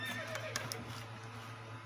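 A horse neighs once, quiet and somewhat distant, with no voices over it.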